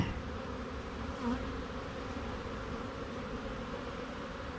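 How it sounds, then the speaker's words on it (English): Dense, steady buzzing of many honeybees flying out of a hive box close by, a continuous droning hum with no voices. "all of these other bees that are flying out of the box can go ahead and fly out of the box"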